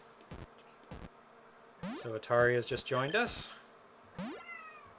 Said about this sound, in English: he is a little gray cat full of love